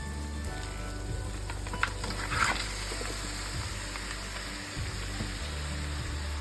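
Country chicken pieces dropped into onions, ginger-garlic and turmeric frying for natukodi curry: a steady sizzle with a low hum beneath, a burst of louder crackling as the meat goes in, then scattered stirring clinks, no voices.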